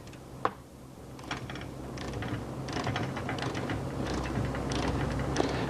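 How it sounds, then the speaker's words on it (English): A torque wrench tightens a bolt to 25 inch-pounds during RV-6 aircraft tail assembly, producing faint ratcheting clicks over a constant low shop hum. "So we'll go ahead and put our wrench on here, our torque wrench on the back,"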